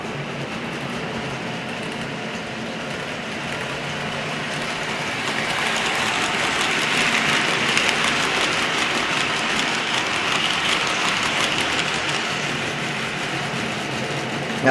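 A model British diesel locomotive runs around a layout track with a steady, even rumble and hiss that swells slightly midway and continues without speech.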